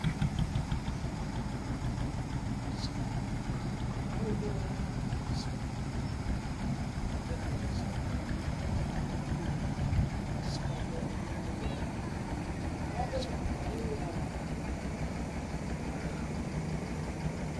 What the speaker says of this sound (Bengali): এই যে খেয়াপাড়ের নৌকাটা এখান থেকে এই পার থেকে মানুষ বোঝাই করে আবার ওই পাড়ের দিকে যাচ্ছে